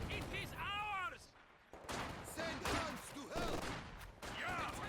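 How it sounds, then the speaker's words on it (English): In a Company of Heroes 2 match, a machine gun fires in bursts with rattling gunfire in the background, while commentators talk loudly over it. "As this MG is just firing into the window here."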